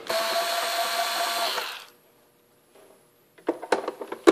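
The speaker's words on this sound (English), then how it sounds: "unscrew all the screws. I'm going to start with one of them." A screw is driven out of a 220V/110V voltage converter, with a steady whirring tool hum for under two seconds, then a pause, then a few sharp close clicks and rattles of metal parts.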